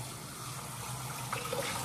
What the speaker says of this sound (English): I just put the water in there and start blending it.